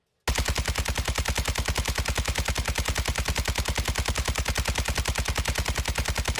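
RPK machine gun firing continuously in the video game Warzone 2: a long, unbroken stream of rapid, evenly spaced shots, loud and close, starting abruptly after a brief silence.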